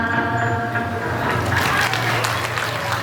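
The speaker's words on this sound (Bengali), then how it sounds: "জোরে হাততালি" An audience claps after a dance performance at a Durga Puja celebration, a steady wash of close applause over a low hum, with some voices mixed in.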